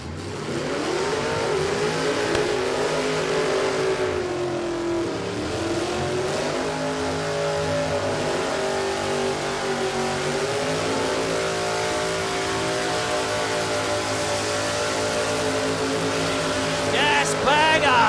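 Drag racing car engine roaring at Warwick Dragway, loud and sustained for the whole stretch with rising and falling revs and a steady wall of noise near the track.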